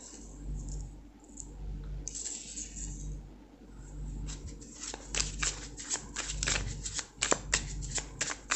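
A mini deck of tarot cards is shuffled by hand, soft sliding riffles at first, then a run of quick crisp card snaps and flicks, close and fairly quiet, with no talk.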